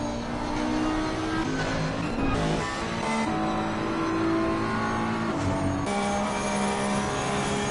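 On-board engine of the #888 Porsche race car in a PS5 sim racing league event at Zandvoort: continuous loud revving with rising pitch and gear shifts, including a sharp upshift drop midway, heard alone.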